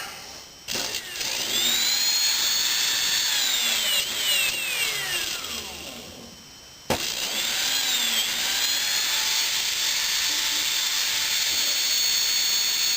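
A small electric motor on a homemade electrolytic capacitor and rectifier bench setup runs with a steady, loud whine and shifting tones that briefly cut out before restarting and holding steady.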